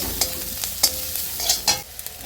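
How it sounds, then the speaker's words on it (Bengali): Chopped ginger frying in a little oil in a home kitchen pan, with a spoon scraping and stirring in several quick strokes over a soft continuous sizzle, close and alone. "আদা কুচিটা দিয়ে একটু ভাজা ভাজা করবো"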